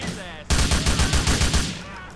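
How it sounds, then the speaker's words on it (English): Gunfire in the video game GTA 4 (LCPDFR police mod, Kentucky State Police): a loud, close burst of rapid shots rattles off in a quick string of cracks, then fades. "I heard another gunshot from over here somewhere"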